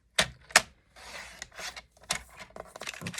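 Scissors or a trimmer cutting a quarter inch off a sheet of vellum paper for a note card, giving a few short crisp snips followed by rustling paper and scraping, close and quiet.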